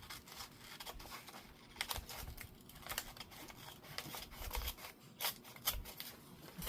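Scissors cutting paper pages from a Woman's Day magazine, a quiet, close series of irregular snips and rustles with no talking.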